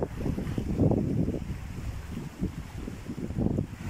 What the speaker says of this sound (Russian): Ветер дует, поэтому не так четко слышно в микрофон.